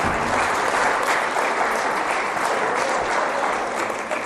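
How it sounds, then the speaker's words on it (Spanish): Dense, steady applause from a church congregation honoring a boy named Pablito, loud and continuous throughout with no pauses, like many hands clapping together in a large room. "Le damos un aplauso a Pablito"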